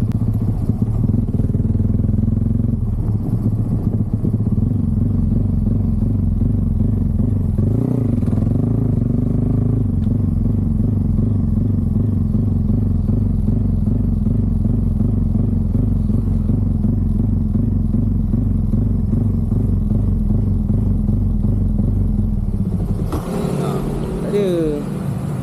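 A 5-speed LC135 motorcycle engine drones loudly and continuously, revving as it accelerates and holds speed, with wind rush throughout and a brief shift in pitch near the end.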